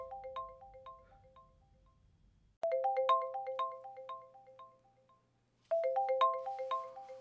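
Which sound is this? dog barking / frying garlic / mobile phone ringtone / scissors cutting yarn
mobile phone ringtone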